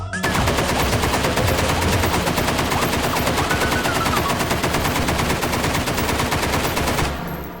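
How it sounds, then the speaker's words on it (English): A machine gun fires continuously in the VR shooter H3VR, a rapid steady stream of loud, close shots lasting about seven seconds before it stops. "Not the fastest firing machine gun in the world, but when you're this accurate, especially one-handed, fire rate is moot"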